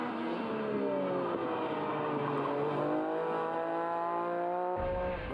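Rally car engines revving and shifting through sweeping bends at a UK rally stage, with rising and falling gear whines, loud and close, ending in a sudden change of tone near the end.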